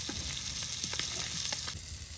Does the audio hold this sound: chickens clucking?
no